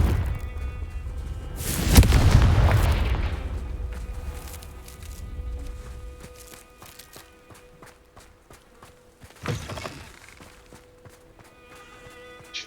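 A Confringo spell blast in Hogwarts Legacy, a loud booming explosion that rolls on for a second or two, followed by a quieter second burst several seconds later against faint game ambience.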